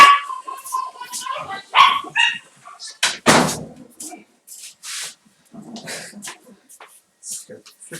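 A dog barks and yips several times in short, sharp bursts, close by, with people talking over and between the barks and a thud like a slamming door.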